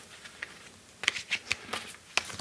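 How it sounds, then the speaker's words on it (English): Quick papery riffling bursts of a card deck being shuffled, several short crisp flurries in close succession, fairly quiet and close. "Now we shuffle the deck."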